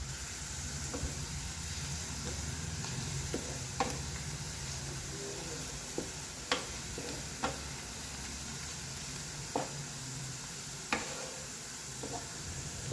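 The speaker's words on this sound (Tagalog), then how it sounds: "you can start stirring, otherwise your onion will be burned." Onions frying in oil for crispy fried onions, giving a steady soft sizzle throughout with scattered light clicks of a utensil stirring the pan, no voices.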